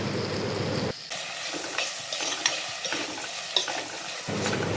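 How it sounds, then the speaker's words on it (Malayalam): Masala sizzles and fries in a pan for a home-style tuna fish curry, with a spoon stirring and scraping through it in short strokes, close and continuous, briefly quieting between stirs. "ഒരു 2-3 മിനിറ്റ് ഇതേപോലെ നല്ലപോലെ വഴറ്റിയെടുക്കുക."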